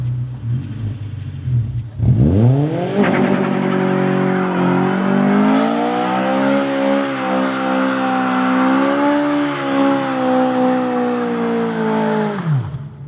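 A car engine revs hard to around 6,000 rpm, its rising howl joined by loud squealing tires spinning, close and sustained for about ten seconds before cutting off.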